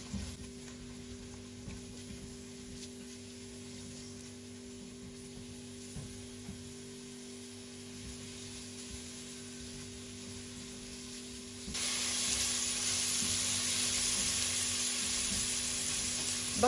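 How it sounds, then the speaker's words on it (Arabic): Onion and garlic frying together on a gas stove for chicken pasta, a soft steady sizzle under a low hum that suddenly swells into a louder, brighter hiss for the final few seconds. "وبقليهم مع بعض على الغاز"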